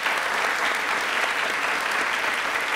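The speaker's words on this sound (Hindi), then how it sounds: "तालियां प्लीज एक बार जोरदार हो जाए" Loud, steady applause from a studio audience fills the space without a break, dense and even throughout, with no voices standing out, on a Rajasthani television quiz show.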